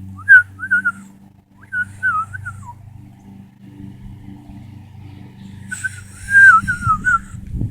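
A person whistles bird-call imitations outdoors: a few short rising and falling chirps, a pause, then a brighter burst of warbling whistles, over a low hum with a passing vehicle rumbling near the end.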